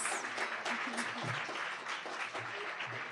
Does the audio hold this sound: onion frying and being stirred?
no